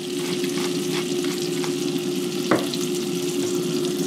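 Hot browning butter sizzles steadily in a pan as garlic powder and pepper are stirred in, a close, continuous frying hiss broken by soft scraping strokes and one sharper clink near the end.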